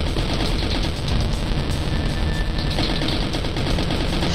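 Characters in the indie video game Pew Pew Heads fire shots from their ears and mouths, producing dense, continuous rapid gunfire that stays loud and steady throughout with no talking.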